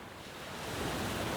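Ocean waves washing onto a windy beach beside a small creek, a steady broadband surf rush swelling slightly louder over a brief moment, with gusty wind buffeting the microphone and no voices.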